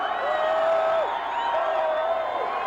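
A large crowd of fans celebrating at a South Philly block party in Philadelphia, a steady dense roar of cheering and whoops carrying throughout with a distant siren-like wail gliding over it.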